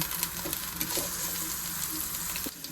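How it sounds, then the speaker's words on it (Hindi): Carrots frying in a pan with oil, a close, continuous crackling sizzle with a few brief stirring clicks and scrapes, steady throughout with no voices. "हल्का सा आप गाजर को हल्का सा फ्राई कर लें।"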